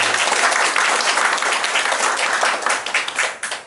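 Dense, loud applause from a concert audience at a panflute performance event, steady clapping throughout that thins slightly toward the end.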